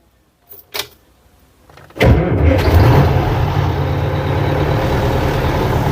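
A truck engine with a broken tachometer sensor cranks briefly, then starts at about two seconds and keeps running steadily with a loud, rumbling idle.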